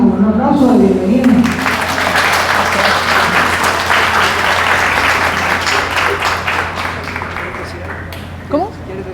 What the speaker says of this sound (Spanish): entonces saludamos a Teresa con un aplauso de bienvenida